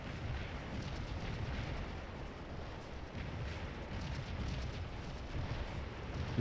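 Civil War artillery in the Scourge of War: Antietam battle game, a continuous low rumble of distant cannon fire and battle noise rolling on without pause, dense and muffled, with no voices.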